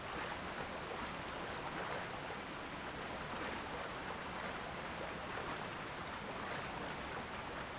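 A waterfall in the video game Tears of the Kingdom pours as a constant, dense rushing roar, steady and full throughout with no voices.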